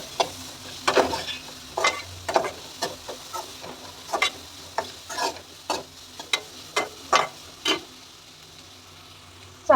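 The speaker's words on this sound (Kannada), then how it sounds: "ಸೊ ಚೆನ್ನಾಗಿ ಫ್ರೈ ಮಾಡಿ, ಲೋ ಫ್ಲೇಮಲ್ಲೇ ಇಡಬೇಕು ಗ್ಯಾಸ್ನ" Grated raw mango fries in oil in a pan on a gas stove over low flame, with a steady sizzle broken by regular scraping strokes of a spoon stirring it.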